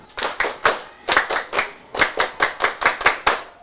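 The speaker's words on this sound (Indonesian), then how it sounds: "Ayo teman-teman, kita tepuk pramuka" Children perform the rhythmic Indonesian Scout clap, tepuk pramuka: crisp, close clusters of sharp hand claps in a patterned beat, grouped in short bursts with brief pauses between them.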